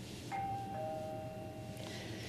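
A doorbell rings indoors, two clear ding-dong chime tones at moderate volume over a quiet domestic background, with no talk during the ring.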